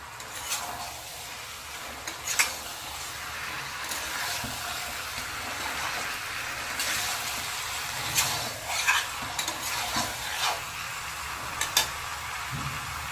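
Chicken and large pieces of fried potato are stir-fried together in a pan, with a low, steady sizzle broken by irregular spoon scrapes and clatters against the pan, close and moderately loud.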